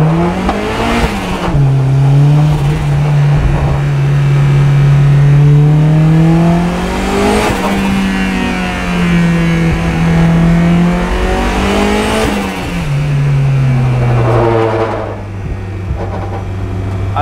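A big-turbo Mazda Miata engine revving hard and close with misfires, its pitch climbing and falling through repeated pulls with a rough, uneven edge.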